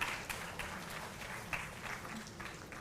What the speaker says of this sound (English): you deserve appreciation and a round of applause for you